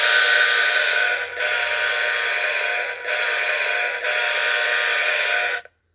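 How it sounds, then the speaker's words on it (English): An Atlas Trainman O gauge toy locomotive sounds a Rock Island horn: one steady, buzzy electronic blast held for about five seconds with a few brief dips, then cut off sharply. No one speaks. "All right, now we're to the Rock Island horn."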